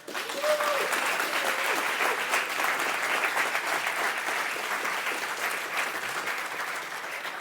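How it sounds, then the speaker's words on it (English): Conference audience at an Affinity Live 2019 event giving a steady round of applause, thick continuous clapping from many hands that holds its level throughout and eases slightly at the end. "allowing you to give yourselves a round of applause"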